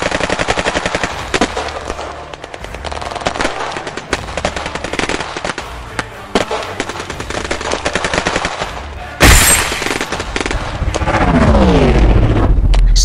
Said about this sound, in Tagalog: nag-umpisa na naman ang mga putok ng barel sa baryo